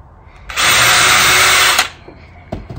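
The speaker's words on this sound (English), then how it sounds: "Then we're going to drill a small hole into the center." A power drill whirs at high speed for just over a second, drilling a small hole into the center of wood for a box, starting and stopping abruptly, close and loud against a quiet room.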